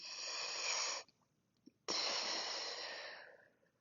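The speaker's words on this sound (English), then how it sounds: "and I'm going to breathe." Long, airy breaths during a prone breathing and trunk activation exercise, a steady exhale of about a second, a pause, then a longer breath fading out, close and fairly loud.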